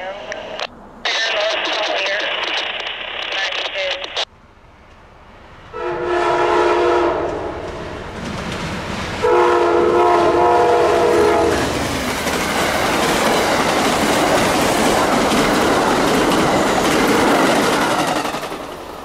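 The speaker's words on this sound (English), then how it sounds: "Amtrak P092, northbound with the big game train unit on the lead." Amtrak P092 northbound passenger train led by a big game train unit sounds its horn in several long blasts, then roars past close by with loud rumbling and clattering wheels, mixed with radio chatter and speech.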